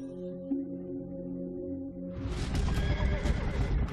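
A horse whinnies in a long, wavering call, then a rushing clatter of hooves and commotion swells in loudly.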